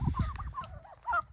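Pasture-raised turkeys on a farm give a short burst of close clucking and gobbling calls, a few uneven squawks over a quiet rural background.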